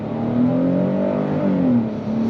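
A 2026 Hyundai Palisade XRT PRO SUV in sport mode accelerates on throttle, its engine note climbing steadily and clearly from inside the cabin over a couple of seconds.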